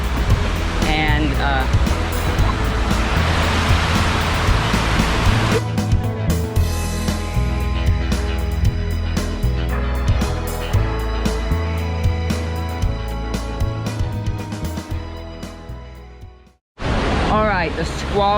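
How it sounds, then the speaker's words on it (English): Huge ocean waves rush and crash around a boat during a squall in the Atlantic, with rain adding to a loud, continuous roaring wash that fades briefly before surging back. "so a squall is coming, and it actually is already here. And the waves, there's huge waves and it's raining."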